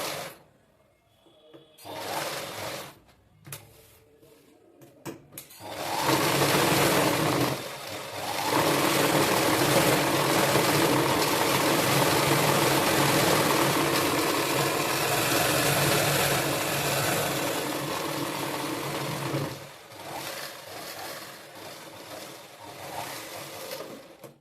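After a few short starts and clicks, a sewing machine stitching a saree runs in a steady, continuous whirring hum for most of the stretch, close and fairly loud, with no talk.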